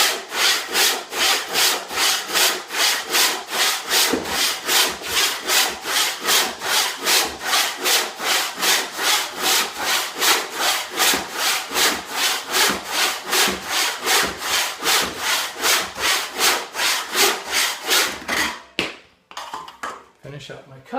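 A hand saw cutting through wood by hand, setting an angled cut without a miter box, in steady rhythmic back-and-forth strokes, about forty in a row, loud and close, ending in a few uneven final strokes.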